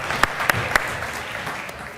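Brief audience applause at a startup conference panel on an arena stage, a short burst of scattered clapping with a few sharp, close individual claps standing out over the general patter.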